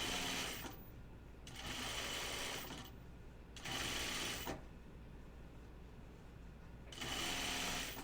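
A sewing machine stitches a dress seam in loud whirring runs of about one to two seconds, separated by short pauses, close and steady with no talking.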